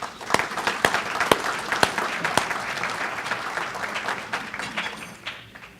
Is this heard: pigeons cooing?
no